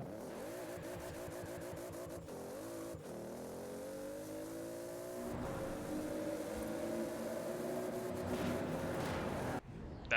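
A tuned 1600 hp Toyota GT86 engine in Forza revs and climbs steadily through the gears, a droning synthetic roar with brief shifts, loud and continuous with no talking.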